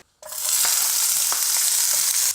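Chopped vegan Mexican chipotle sausage hits a pan on medium heat, and after a brief silence a loud, steady sizzle bursts up and holds, with a few light scrapes of stirring, close and alone.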